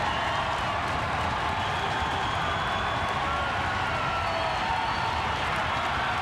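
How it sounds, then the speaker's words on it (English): Capacity crowd roaring at a WWE championship wrestling match between Undertaker and Vader, a dense, steady wall of cheering and clapping that holds loud and unbroken throughout with no clear voice on top. "Listen to this crowd, McMahon!"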